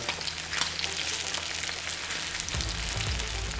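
A seabass fillet fries skin side down in a pan over high heat, giving a loud, steady crackling sizzle throughout with a low hum beneath.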